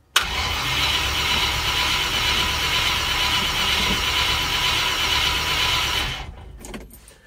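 Land Rover 90 V8 engine cranking in the cold, a continuous loud starter churn lasting about six seconds before cutting off into quiet with faint rattles.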